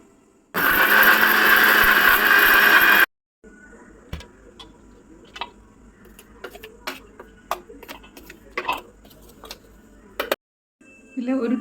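A mixer grinder jar pulverises dry-roasted shrimp with no oil in one loud, dense whir lasting a couple of seconds, then stops abruptly, followed by quieter clicks, taps and handling clatter.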